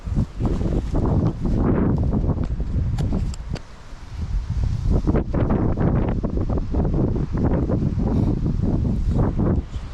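Strong wind on a bridge along Sweden's Kungsleden trail buffets the microphone in loud, rough gusts that roar and rumble throughout, briefly easing midway.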